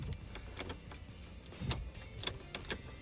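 A car key stuck in the ignition of a Pontiac G8 with an LS swap jangles in quick, close metallic rattles as it is wiggled and tugged.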